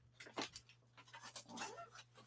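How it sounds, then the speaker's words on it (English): Puppies pant and snuffle close by, with soft whimpers and small squeaky vocal sounds scattered through a couple of seconds over a faint steady hum. "Puppies."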